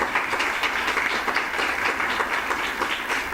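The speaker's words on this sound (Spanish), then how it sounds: "Un aplauso." People at a breakfast conference on arbitration applaud at the close, a dense, even round of clapping that stays loud and steady from start to finish.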